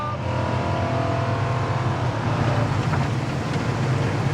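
A 1969 Pontiac GTO accelerates hard from a roll, its V8 roaring in a steady, loud, close drone from inside the car for over four seconds.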